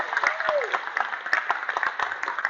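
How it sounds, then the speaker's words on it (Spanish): Church congregation applauding during a Spanish-language sermon on faith, with a crowd's clapping in uneven bursts, moderately loud and somewhat close, and a brief voice sounding over it near the start. "Aplauda si tiene esos deseos."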